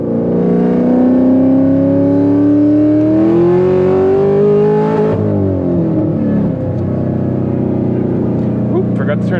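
The engine of a cammed, supercharged Corvette Z06 revs up and accelerates hard, its tone climbing steadily and loud, then shifting and easing off as the car pulls away.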